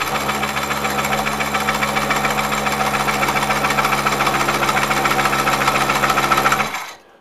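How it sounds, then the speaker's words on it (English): A wood lathe runs steadily while coring a nest of bowls with a Woodcut Tools Bowlsaver, a loud constant motor drone with a fine rhythmic rattle, then winding down abruptly near the end. "I can turn the lathe on, and I place my thumb over the cutter here, and I can just ease that in"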